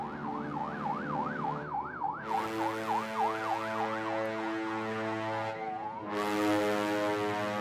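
An ambulance siren wails loudly in a steady rising-and-falling yelp, shifting to a long sustained tone and back, with traffic noise and an engine rumbling beneath.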